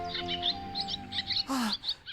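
A swallow in an animated Thumbelina story chirps in a quick series of bright tweets. A short, louder call comes near the end, with no talking.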